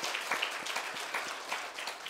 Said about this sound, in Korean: 우리 축하의 박수를 한번 보내주시길 바랍니다.